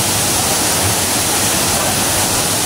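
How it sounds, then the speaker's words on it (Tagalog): Lanzones Falls pours in a steady, dense roar of falling water, close and loud, unbroken throughout with no voices. "ito na po yung tinatawag nating Lanzones Falls."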